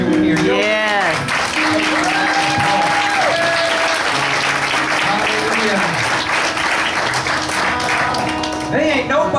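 A church congregation at a worship event bursts into loud, sustained applause that fills the room, with voices calling out over the clapping throughout.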